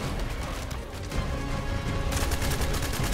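Rapid automatic gunfire in the sci-fi shooter game The First Descendant, a dense, steady stream of shots running throughout with a bright, crackling burst of impacts building toward the end.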